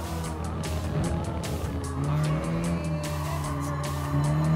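A Mini Cooper S races in Gran Turismo Sport, its engine buzzing loudly with rising and falling revs through gear changes, tires squealing intermittently through corners.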